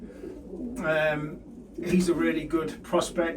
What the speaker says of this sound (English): There's not too many really big pigeons in here.